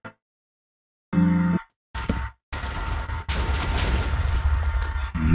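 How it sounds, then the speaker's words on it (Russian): A small explosion in the video game Legendary, heard as a short burst and a couple of brief thuds separated by silence, then a sustained loud rumbling roar that carries on to the end. "Взрыв небольшой."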